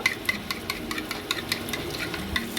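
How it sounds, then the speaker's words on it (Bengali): Spice masala sautés in oil in a pan with a soft, constant sizzle, and quick stirring scrapes tick in a rapid, uneven rhythm, quiet and close with no talking. "এবার এটাকে কষা নেবো আমি।"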